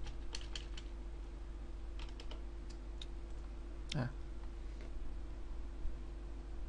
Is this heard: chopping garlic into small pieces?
no